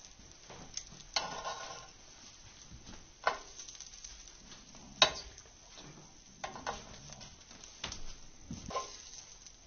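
Buttered English muffins sit buttered side down in a grill pan, giving a soft, steady sizzle broken by occasional clinks and scrapes of cookware.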